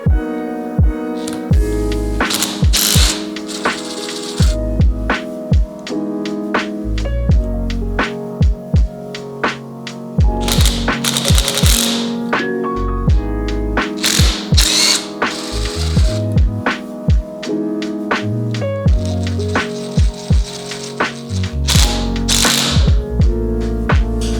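Ratchet wrench removing clip-on bar end weights from a motorcycle: rapid clicking pawl ratchets in repeated bursts, close and loud, with brief pauses between turns and no talk.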